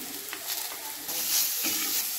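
Food sizzles steadily in a hot pan after turmeric and salt go in, a continuous close hiss with soft stirring scrapes and no voices.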